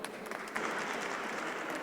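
Audience clapping at a live talk session, a steady wash of hand claps that swells slightly partway through and holds at a moderate level.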